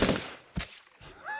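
Gunfire effects from a Call of Duty parody: a few sharp, loud bursts in quick succession, separated by brief gaps, with a short rising tone at the end.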